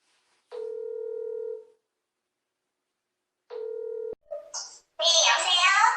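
A phone call placed about renting out a studio apartment: two long, steady ringback tones sound with a pause between them, then a voice answers over the line, filtered and telephone-thin.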